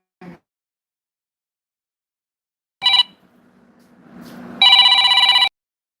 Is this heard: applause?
no